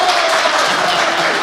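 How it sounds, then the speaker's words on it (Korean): Studio audience applauding at a Korean political talk show, a dense steady wash of clapping filling the short moment at fairly close range with no voices over it. "박수"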